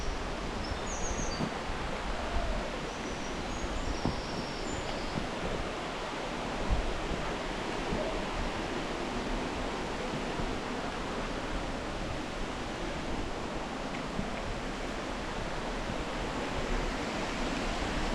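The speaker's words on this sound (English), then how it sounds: "Is the waterfall running quite nice?" Steady rushing water from the waterfall at Stainforth, a broad continuous roar that holds even and unbroken from start to end, with no voices.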